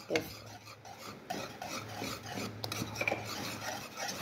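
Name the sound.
stirring dalda into asida sweet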